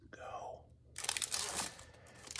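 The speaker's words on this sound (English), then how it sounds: "Ripping packs. 3, 2, 1. Let's rip some packs." Topps Chrome trading card packs are torn open up close, a burst of crinkling foil and ripping wrapper after a brief spoken countdown, with soft rustling continuing to the end.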